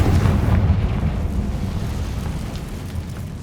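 A Confringo fire spell explodes in the video game Hogwarts Legacy: a loud, rumbling blast that swells at once and rolls on steadily for several seconds without fading much.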